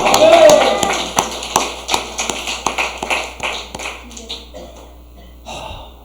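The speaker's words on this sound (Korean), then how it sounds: "이때 우리가 박수 한번 쳐야 돼요" A church congregation at a revival service claps in a steady, regular beat, each clap sharp and evenly spaced, while voices shout and speak loudly over it before the rhythm tapers off.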